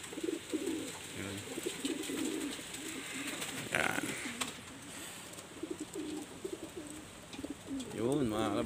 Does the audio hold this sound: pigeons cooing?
yes